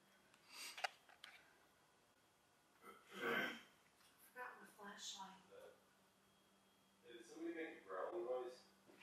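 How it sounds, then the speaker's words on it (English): A few quiet throaty rasps and short vocal clearing noises come in separate bursts, close but soft, with faint background hum. "That was mom clearing her throat."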